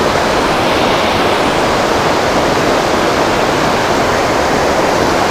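Strong river current rushing at a fishing spot, a loud, dense, continuous roar of water with no voices.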